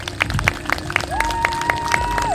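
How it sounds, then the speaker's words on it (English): A crowd at a Black Lives Matter peaceful protest in Simcoe County claps and cheers outdoors, with rhythmic handclaps and a long, sustained whistle or shout rising above the crowd noise. "I want to give a huge round of applause to our LGBT plus community for all of your support."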